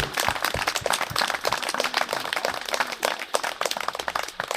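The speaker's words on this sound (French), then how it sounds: "On peut les applaudir, oui." An audience claps steadily at a French remembrance ceremony attended by a member of parliament, a dense unbroken patter of many hands with no talk over it.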